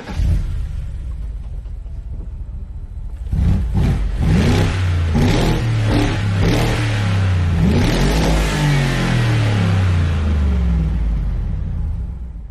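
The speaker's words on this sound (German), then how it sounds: "Gurgelt der Motor" A rear-wheel-drive Morgan Aero SuperSports with a six-speed Tiptronic gearbox revs hard in Forza 4, its engine note rising and falling through a series of loud, gurgling revs with pitch sweeps, alone without talk.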